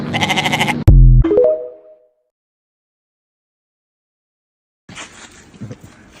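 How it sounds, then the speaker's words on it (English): A young goat bleats once in a loud, wavering cry, then a second shorter bleat trails off, followed by silence and faint rustling near the end. "Baby goat."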